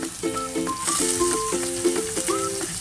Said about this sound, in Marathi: त्यामध्ये कांदा टाकूया.